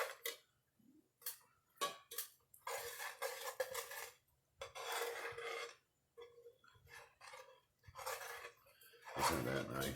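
A spoon scraping and stirring mac and cheese in a pot, with intermittent close rasping strokes and metallic clinks separated by brief pauses.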